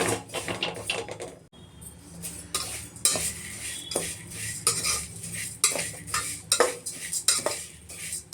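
Vermicelli roasting in a little oil in a pot over a medium flame, stirred with a metal spoon: quick, repeated scraping and clinking strokes against the pot over a soft sizzle, close and busy, with no voices.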